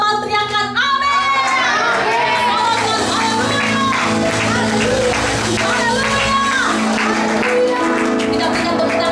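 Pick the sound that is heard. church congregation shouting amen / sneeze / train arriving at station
church congregation shouting amen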